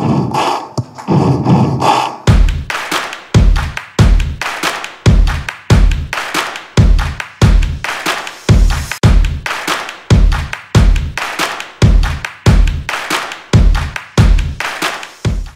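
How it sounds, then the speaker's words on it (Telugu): An audience at a grand branch launch event claps along to music in a steady, loud rhythm, sharp synchronized claps landing regularly over a musical backdrop, with no talk. "Music కన్నా మన క్లాప్ సౌండ్ గట్టిగా ఉండాలి."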